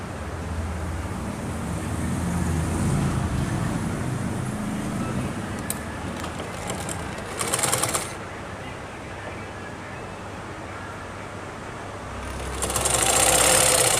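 A sewing machine stitching a kameez runs steadily at low volume under light background noise, with a few brief louder bursts partway through and near the end.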